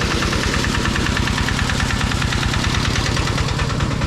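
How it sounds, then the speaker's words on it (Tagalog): A motor pump engine pumping out water chugs nearby with a fast, even knocking rhythm, loud and unbroken throughout. "napaandar na natin makina para mabawasan yung tubig"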